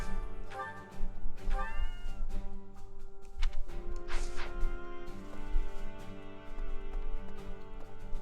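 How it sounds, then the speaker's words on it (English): A cat meows a few times in the fantasy strategy game Fire Emblem Three Houses, the short calls rising over steady game music and ambient tones. "Cat."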